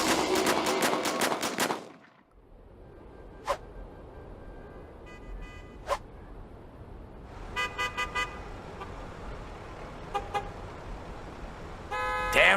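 Car horns honk in a traffic jam on the Golden Gate Bridge in San Francisco, with short bursts and longer blaring toots scattered against a quiet background of idling traffic.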